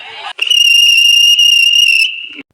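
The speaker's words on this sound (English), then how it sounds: "the Fat Controller climbed onto a trolley and blew the guard's whistle." A loud, shrill railway guard's whistle blast held steady for about two seconds after a brief burst of crowd noise, then cut off sharply.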